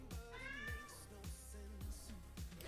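A house cat meows insistently at its owner in a kitchen, several drawn-out cries in a row, close and loud, over light background clatter.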